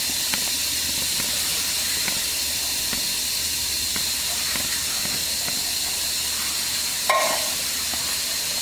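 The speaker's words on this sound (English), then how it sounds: "I'm going to rinse these until the water turns clear" A kitchen sink sprayer rinsing canned black beans, producing a steady loud hiss of running water with faint clicks and taps throughout, and no talking.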